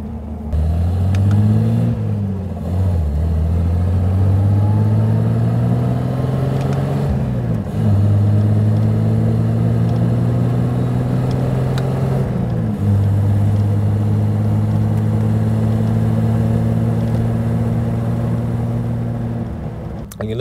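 A 1936 Riley Kestrel 15/6 with a preselector gearbox and fluid flywheel revs and pulls away. The close, steady engine drone climbs in pitch, dips at each gear change and climbs again, with no talking.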